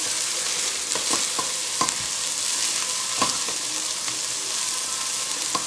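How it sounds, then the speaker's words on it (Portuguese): Purple garlic sizzling steadily in a hot pan as a home cook prepares chicken coxinha filling, with a few sharp stirring clicks and scrapes breaking through the continuous close, even frying hiss. "Deixar fritar um pouquinho também."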